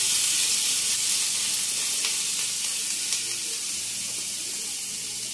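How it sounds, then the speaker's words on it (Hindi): Ginger paste frying in hot oil in a pan for fried rice gives a steady, close, bright sizzle that holds without a break. Nobody speaks over it. "हमारा तेल गर्म हो चुका है, अब हम अदरक का पेस्ट डालेंगे और इसको हल्का सा फ्राई करेंगे"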